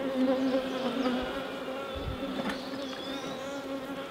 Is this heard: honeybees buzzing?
yes